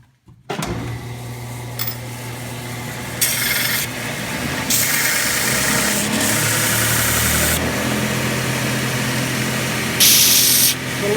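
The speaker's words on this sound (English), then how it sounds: "Trim it up on the sander just a little bit." A sander trims a scrap metal part for a homemade hinge, making a continuous grinding rasp over a steady motor hum, with the grinding intensifying in several surges as the metal is pressed against it.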